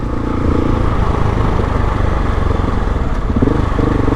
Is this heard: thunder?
no